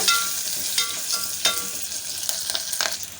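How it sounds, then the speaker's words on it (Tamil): Cashews, garlic cloves and chopped green chillies fry in a pan, a steady close sizzle broken by several scraping stirs of a spoon, with no voices. "இப்போ இதில் கொஞ்சமாக மட்டும் முந்திரி பருப்பு ரெண்டு பல் பூண்டு சேர்த்துக்கலாம் ரெண்டு பச்சை மிளகா கட் பண்ணி வச்சதையும் உள்ளே ஆட் பண்ணிக்கலாம் நல்லா கலந்து விட்டுக்கோங்க"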